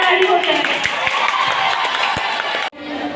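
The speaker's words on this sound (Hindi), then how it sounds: "एक बार दो ताली हो जाए।" An audience claps steadily at a school Independence Day function in a village, a dense wash of applause that carries on throughout, cutting off sharply near the end before a softer noisy tail.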